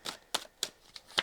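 A deck of tarot cards is shuffled in a steady rhythm of five crisp riffles, close and fairly quiet, with no voices.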